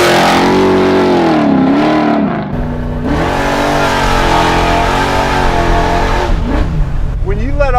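An 850hp Chevelle engine revs hard through custom-made exhaust headers and mufflers, rising and falling in several loud throttle blips with a brief dip near the middle and a final sharp rev, close and dominant, with people talking over it.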